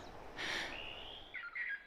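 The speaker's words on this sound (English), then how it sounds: "Marion's playing a distress call to try and encourage some interest from the other two birds that are up in the canopy" A recorded bird distress call plays in a forest canopy setting to draw songbirds: a harsh, raspy burst followed by a thin sustained whistle and a couple of brief chirps, moderately loud and alone.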